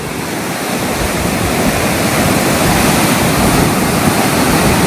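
High river water rushing through the Harike barrage in October flood conditions, a steady, loud broadband roar that holds unbroken throughout with no voices.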